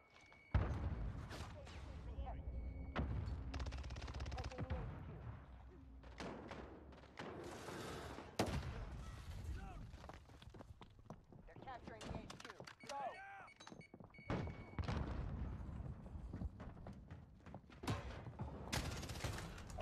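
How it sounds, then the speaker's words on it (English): Gunfire in a video game shooter crackles in repeated bursts and bangs with mechanical clicks and thuds, loud and close throughout. "I'm missing all my shots."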